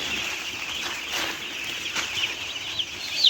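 Chickens cluck inside a poultry farm shed, a dense, continuous flock murmur with a few sharper calls and some wing flaps, heard without any talking.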